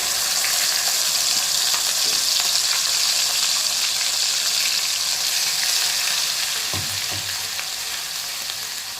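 A spice paste hits a hot pan and sizzles loudly, a dense, steady hiss that fills the whole stretch close by, with a brief low knock of a utensil near the end and no talking.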